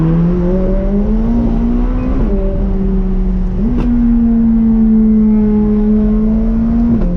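A McLaren 600LT sports car engine roars loud and close, holding a high steady drone with a few rev shifts where the pitch dips and climbs again.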